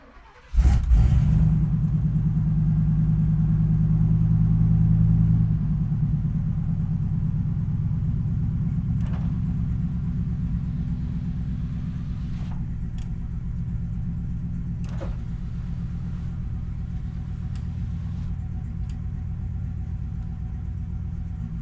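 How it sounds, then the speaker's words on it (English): Inside the cabin of a Chevrolet Suburban idling in gear, a loud, steady low rumble that starts abruptly, eases slightly after a few seconds, then holds constant, with occasional faint clicks. "sitting right here, in gear, just idling"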